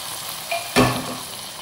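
Fried cashews and raisins drop into a pot of simmering milk for beetroot payasam, giving one brief loud hiss and sizzle with a soft splash. Quieter cooking noise runs before and after, with no voices.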